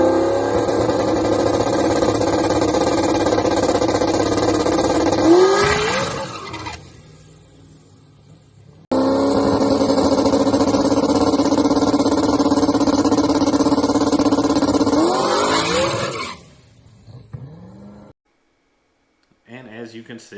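A boosted race car on a drag strip test pass gives a loud, sustained engine drone twice, each run ending in a falling sweep that fades to near silence.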